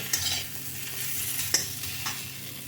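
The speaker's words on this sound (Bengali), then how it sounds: "এইগুলো একসাথে সব মিশিয়ে ভালো ভাজা হয়েছে" Potatoes and pumpkin with grated coconut sizzle in a pan for a Bengali kumro chhokka, with a close spatula scraping and clacking through the frying in a few distinct strokes.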